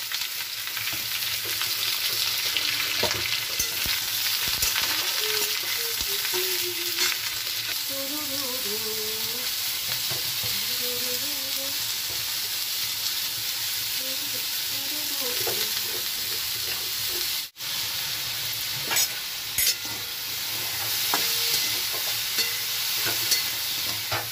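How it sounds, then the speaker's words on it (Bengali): Steady, close sizzling of lentil dumplings frying in hot oil fills the whole stretch, with occasional stirring scrapes and a brief dropout partway through. "বড়িটা একটু লাল লাল করে ভাজবো।"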